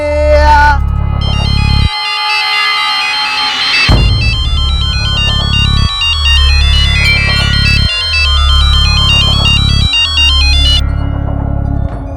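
A mobile phone rings with an incoming call, a loud electronic ringtone melody repeating in regular two-second phrases over a thumping beat, filling the whole stretch on its own.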